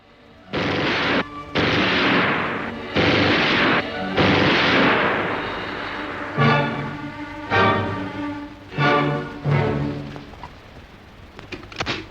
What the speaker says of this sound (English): With this machine gun, it is necessary to stand still when firing the shot because of the strong recoil